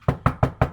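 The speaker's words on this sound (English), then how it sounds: "so I just knocked really hard" Hard knocks on the front door of a building with no doorbell: five sharp, evenly spaced raps in quick succession, loud and close, with no voices.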